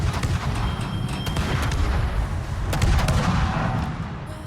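Naval gunfire in a World of Warships-style game aimed at the Dutch cruiser Groningen, heavy shell impacts and booming shots rolling together in a dense, continuous barrage with rumbling low end and sharper cracks near the end.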